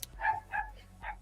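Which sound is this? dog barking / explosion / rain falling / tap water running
dog barking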